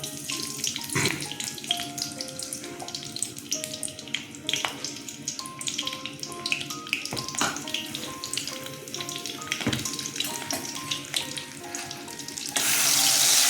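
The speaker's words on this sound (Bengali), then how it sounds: "আমি এবার কাঁচা লঙ্কা আর কালো জিরা ফোড়নে দিয়ে দিলাম" Green chilies and nigella seeds crackle in hot mustard oil as a tempering, a steady close sizzling hiss beneath melodic background music, swelling louder in the final second; no one speaks.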